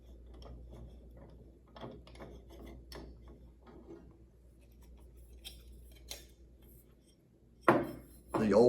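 An old Tyco tamper-resistant fire sprinkler head being unscrewed from a half-inch pipe-thread reducer, giving faint, irregular metallic ratcheting clicks and scrapes, then two louder handling clunks near the end.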